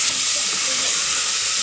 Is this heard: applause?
no